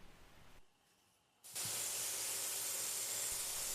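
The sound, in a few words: belt sander with 150 grit sanding magazine loader edges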